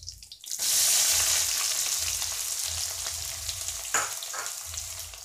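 Curry leaves and onion hit hot oil in a large pan with a sudden loud sizzle that holds steady and close, with a brief flare of crackling partway through; no voices.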